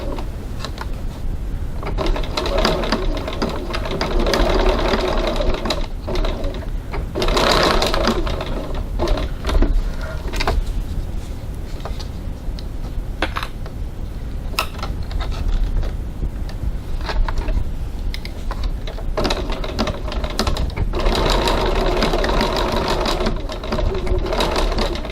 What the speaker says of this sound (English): Just going to baste the ends of this one too.